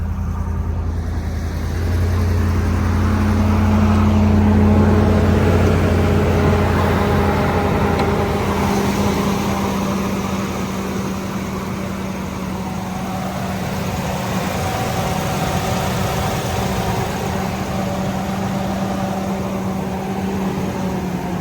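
A 2012 Ford F-350 service truck engine with about 224,000 miles idles steadily close by, a low even hum and rumble holding for the full stretch with no other sounds.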